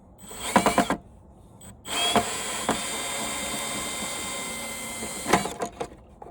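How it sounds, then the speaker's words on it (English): Power drill backing a screw out of an old TV set: a few short whirring bursts at the start, then a longer steady drill run, ending with another short burst, close and alone. "Then I can use my drill."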